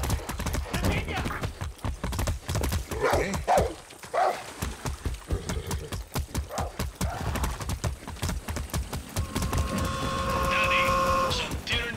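Horse hooves clip-clop at a gallop in the open world of Far Cry 6, with occasional whinnies, steady and fairly loud under a voice talking throughout.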